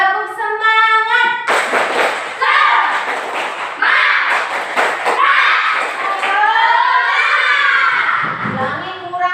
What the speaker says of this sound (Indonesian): Baik, tepuk semangat.